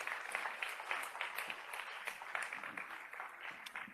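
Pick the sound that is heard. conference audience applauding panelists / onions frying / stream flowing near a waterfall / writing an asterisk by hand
conference audience applauding panelists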